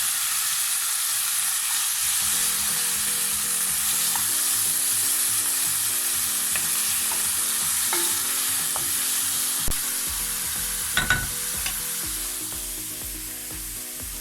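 Squid chilli fry with tomato and coriander sizzles steadily in a pan, a continuous bright hiss with occasional soft pops and a faint tonal hum underneath, no voices.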